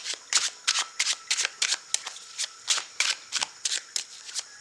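Tarot cards are shuffled by hand in a quick run of crisp riffles and flutters, about a dozen bursts spaced in an uneven rhythm, close and fairly soft.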